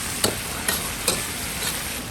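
Pig trotters stir-frying in a wok over moderate heat for sour soup, a steady soft sizzle with a few light scraping stirs at regular intervals, close and alone without talk.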